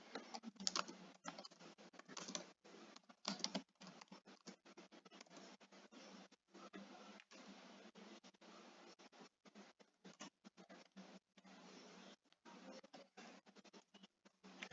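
Fast irregular keystrokes on a computer keyboard while code is entered, a steady patter of close, light clicks with brief pauses and no talking.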